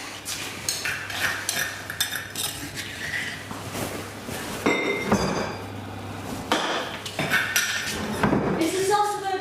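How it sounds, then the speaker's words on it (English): Salsa verde is spooned into a bowl in a kitchen, with repeated clinks and scrapes of metal on crockery and dishes knocking, while people talk quietly in the background. "what I want you to do is spoon it into that bowl there"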